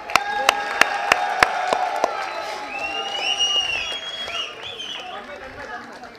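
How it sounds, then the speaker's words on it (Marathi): At a prize ceremony for a Marathi one-act play competition, several sharp, separate hand claps ring out, then fade into a murmur of crowd chatter and voices. "जरा पहिल्या बक्षिसासाठी टाळ्या वाजवायला तरी थांबा"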